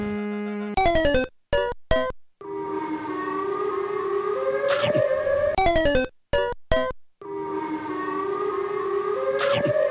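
Siren Head's siren call from a video game blares loudly: a wailing, multi-toned horn that rises and falls in two long cycles, each opening with rapid stuttering bursts before a sustained, slowly bending howl, with no voices.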